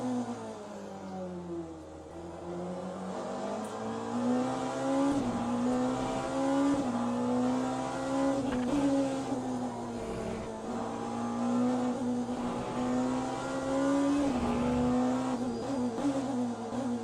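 A hypercar in the Le Mans Ultimate racing sim drones steadily at high revs, its engine note dipping sharply twice in quick succession during a double upshift, then climbing again, heard alone and fairly clear.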